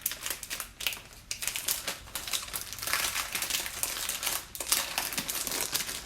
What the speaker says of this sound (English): A lot of crinkling sounds.